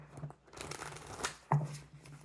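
Tarot cards riffle and shuffle close up in short papery bursts, ending in a sharp snap.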